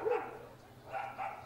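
Dogs barking in a street in Brazil, a few muffled barks spread out over steady low background noise, fairly distant and with no clear talking.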